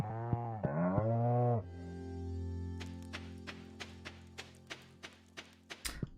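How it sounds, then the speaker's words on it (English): Cows mooing on a farm in the Stardew Valley video game, two loud bellowing moos up close, then a run of evenly spaced soft taps and thumps. "Oh, these cows are angry."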